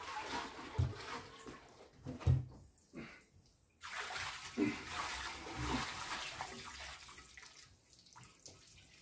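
Water sloshing and splashing inside a glass wine demijohn being rinsed out, with uneven gurgling pours and bursts of running water, a couple of dull knocks, fairly faint and close.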